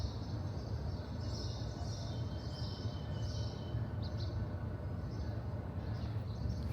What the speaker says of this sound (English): Birds chirping and that.